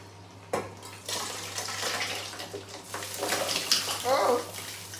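Water is poured into a pot of ogbono soup cooking with meat, dried fish and chicken. It makes a close, steady splashing pour for several seconds, and faint voice traces sit underneath.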